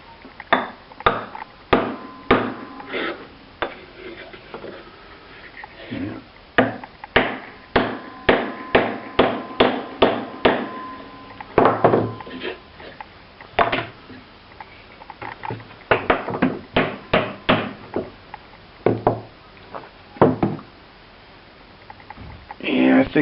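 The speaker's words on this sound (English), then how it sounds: "try to get this wedge pounded down in it" Wedge being hammered into the eye of a Norlund Voyageur hatchet head during a restoration, sharp metallic blows in irregular bursts, some rapid and clustered, some spaced, close and fairly loud, with quiet gaps between.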